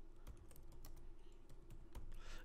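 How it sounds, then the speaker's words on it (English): Asterisks are typed on a computer keyboard: a quick, uneven run of soft, close key clicks and taps at low volume, with no voice. "So I'm just typing regular old asterisks."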